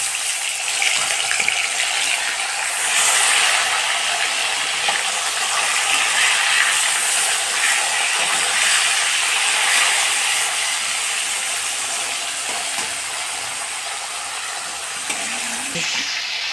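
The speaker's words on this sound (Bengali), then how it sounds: "এখন আমি তেল দিয়ে দিচ্ছি, মাছটা ভেজে নেব।" A few bhagna fish frying in hot oil in a pan give a steady, loud, bright sizzle that holds evenly throughout with no voices.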